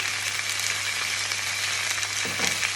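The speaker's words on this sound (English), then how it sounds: "Hear that sizzle? That's what you want." Chicken pieces sizzle in a hot frying pan, a dense, steady crackling hiss that runs throughout, close and fairly loud, with a few brief clatters near the end.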